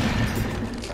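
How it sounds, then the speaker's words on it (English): A deep, dense blast of gunfire in the Uncharted video game, a shot at a powder keg producing a loud, sustained boom that fills the short moment. "Try shooting that keg."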